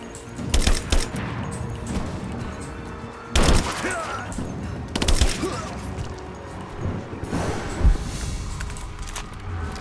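Gunfire in Rise of the Tomb Raider on hard mode, with several sharp bursts of shots fired at the player in cover, spaced a few seconds apart over a steady rumble of background noise.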